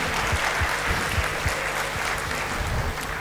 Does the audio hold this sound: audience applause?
yes